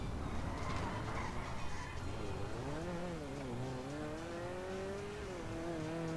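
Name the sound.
car engine accelerating in the video game GTA V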